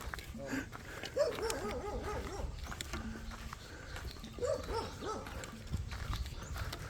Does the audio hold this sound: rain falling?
no